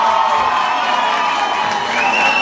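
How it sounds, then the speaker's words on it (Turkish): Crowd at a concert at Drom, New York, cheering and whooping loudly and continuously, a dense roar of voices with some shouts rising above it throughout. "Arkadaşlar arkaya alkışlar mısınız?"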